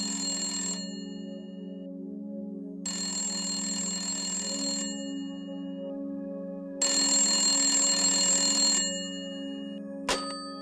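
Telephone ringing heard during a call to a mother: three long electronic ring bursts separated by pauses of roughly two seconds, clear and steady with no talking, followed by a brief click.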